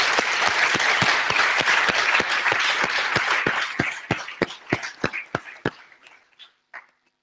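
Audience applause at an opening ceremony, a dense crowd clapping loudly that thins into a few scattered, separate claps before stopping.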